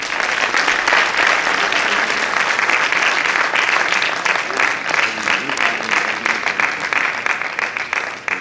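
Sustained, dense applause from a large audience at a literary award ceremony in Lucknow, steady and loud throughout with no break.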